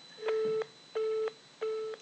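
A telephone ringback tone sounds during a phone call, three evenly spaced steady beeps repeating at a regular rhythm, clear and alone over faint line hiss.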